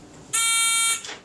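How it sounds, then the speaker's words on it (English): An electric call buzzer set off by a puff-tube switch sounds a single loud, steady electronic tone lasting about half a second, then cuts off. "buzzer over there."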